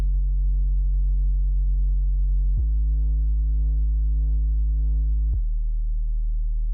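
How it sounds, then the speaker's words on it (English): Synthesized sub bass from a drum and bass remix plays alone, a loud, pure low tone sustained in three long held notes with pitch steps between them and no other instruments. "So I'm going to play my sub now."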